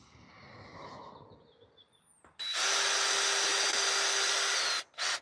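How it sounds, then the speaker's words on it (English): A power drill whirs loudly and steadily for over two seconds while a Native TitanX 12.5 fishing kayak is being rigged, then cuts off briefly and restarts in a short burst; quieter ambient sound precedes it. "I'm not very good with power tools, so don't judge me if I drill into my hand."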